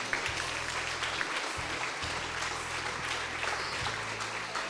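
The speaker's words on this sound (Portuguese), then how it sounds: "Será que você pode aplaudir o Senhor Jesus?" A church congregation applauds during a worship service, a steady wash of many hands clapping at moderate volume, with a low sustained tone humming underneath in bursts.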